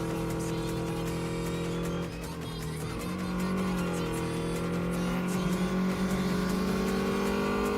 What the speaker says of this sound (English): I can hear her car revving up and down